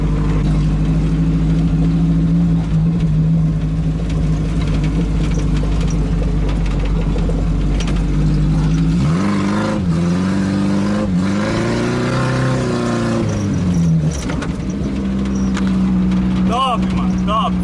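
A Chevrolet Chevette engine drones loudly up close, then revs and rises in pitch as the car slides around on a dirt road, dropping back and surging again toward the end.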